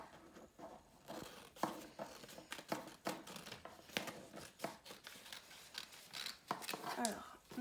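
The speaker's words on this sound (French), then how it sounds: "Je vais le découper." Scissors cut out a paper name label, with repeated snipping and papery rustling, close up and continuous across the clip under quiet background sounds.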